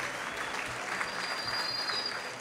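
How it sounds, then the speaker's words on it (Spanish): Sustained applause from an audience cheering a team at an event, an even wash of clapping with no pause throughout. "Muy fuerte el aplauso para este equipo."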